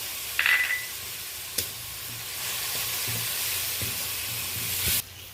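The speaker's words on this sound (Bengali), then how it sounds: "লবণটাকে ভালো করে পেঁয়াজ, কাঁচা লঙ্কা, টমেটোর সাথে মিশিয়ে নিচ্ছি" Onion, green chili, grated tomato and ginger paste sizzle loudly in a pan, a close, steady hiss with a sharp clink and a few scraping stirs.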